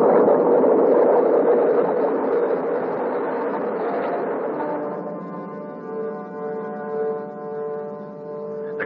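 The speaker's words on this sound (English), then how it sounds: "All engines are running. We have a liftoff." Rocket engines roar at liftoff, a loud rumble that is dense at first and then settles into a steadier, droning tone with some rising and falling, heard without speech.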